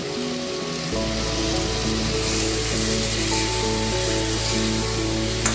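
Pointed gourd pieces hit a hot pan for a vegetarian poppy-seed paneer dish, setting off a loud, steady sizzle that begins about a second in and continues evenly to the end.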